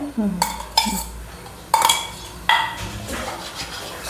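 Metal steamer plate for jowar kadabu handled while being greased with oil: four sharp, close metallic clanks at uneven intervals, with faint rustling and scraping between them.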